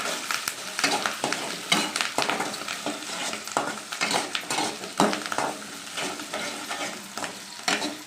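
Onions sauté in oil with curry leaves for a peanut kara kuzhambu, a loud close sizzle broken by repeated spoon stirs and scrapes against the pan, no voices.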